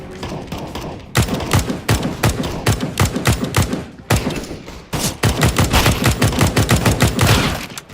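Loud, rapid bursts of gunfire in a combat game battle, with dense volleys of shots, brief pauses between them and a near-continuous barrage at the end.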